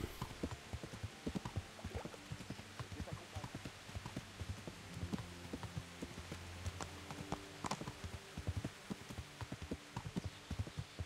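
Horse hooves clip-clopping in the medieval game Kingdom Come Deliverance, a steady, close rhythm of hoof strikes continuing throughout, faint under someone talking, with occasional louder thuds.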